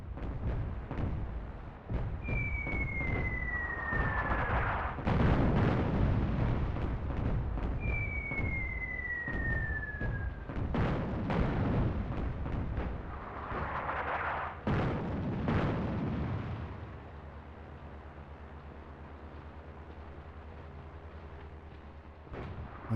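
Artillery bombardment and gunfire in a WWII North Africa real-time strategy game: scattered booming impacts and sharp shots, with whistling incoming shells before some blasts, heavy rumbling explosions and a lower engine drone later on, no voices.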